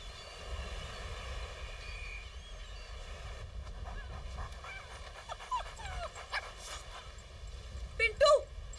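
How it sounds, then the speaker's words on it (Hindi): A dog pants with short whimpering yelps near the end, heard over a steady low hum and background noise with some talk in an indoor comedy scene. "इस कुत्ते को मेरे सामने से लेके जाओ।"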